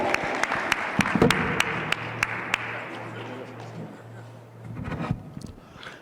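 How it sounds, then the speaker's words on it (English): A small outdoor crowd at a flag raising ceremony gives scattered applause, with a few sharp individual claps standing out over a soft patter that thins out and then briefly swells again near the end. "Y'all can clap, it's okay."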